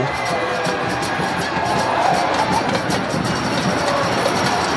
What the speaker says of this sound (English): the big cheer tells you who it is on the ball